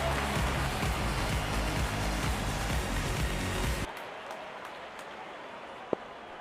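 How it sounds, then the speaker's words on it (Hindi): Cricket fans at an Ireland versus India T20 World Cup match applaud a boundary four, dense steady clapping that cuts off abruptly partway through and leaves a quiet hiss with one faint tap. "जब अपोनेंट फैंस भी ताली बजा दे तो समझ जाइए बैटिंग कमाल की हुई है।"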